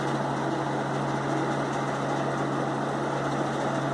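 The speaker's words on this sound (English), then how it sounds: "It is a decent breeze. A little bit noisy, but and a little bit rattly." A Galaxy 3714 box fan runs steadily with a constant whirring drone and a low hum, loud and near, slightly noisy and rattly, with no talk over it.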